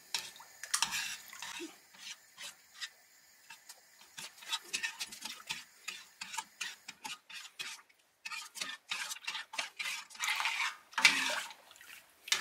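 Honey is stirred into water for homemade mead, with rhythmic scraping and swishing strokes against a container in close bursts separated by short pauses, and brief ticking and dripping sounds between them.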